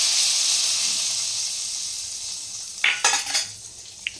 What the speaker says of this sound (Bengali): এই যে ফোড়নটা আমি দিয়ে দিলাম উপরে।